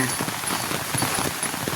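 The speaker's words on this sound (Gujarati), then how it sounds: "અત્યારે વરસાદ શરૂ છે" Steady rain falling, a dense hiss of drops pattering on a surface, continuous and moderately loud throughout.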